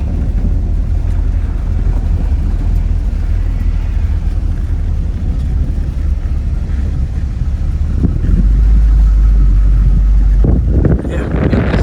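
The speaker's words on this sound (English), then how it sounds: "we keep getting huge gusts of wind" Strong, continuous wind buffeting the microphone with a deep low rumble that surges louder near the end, no voices heard.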